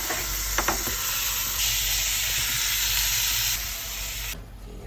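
Meat sizzling and frying in a hot pan for oyakodon, a steady close hiss with a few light clinks early on, cutting off abruptly near the end.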